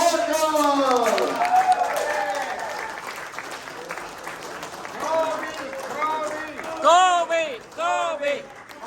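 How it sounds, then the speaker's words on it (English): An audience at a political candidate forum applauds and cheers as a candidate walks onto the stage, sustained clapping mixed with loud shouting voices close by. "Big round of applause for Kobe Marco!"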